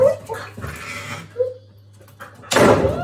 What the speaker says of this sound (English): so you can see him shutting the door all by himself